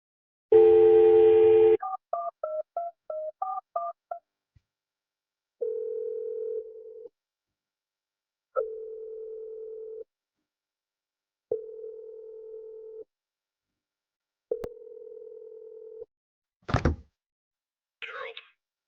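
A telephone call is placed: a short burst of noise, then a quick run of keypad dialing tones, followed by several evenly spaced ringback tones with brief gaps and a thunk near the end.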